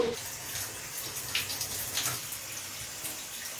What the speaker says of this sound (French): je file à la douche